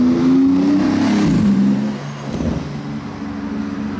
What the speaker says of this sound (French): En termes de sonorité, c'est très violent les GT2 RS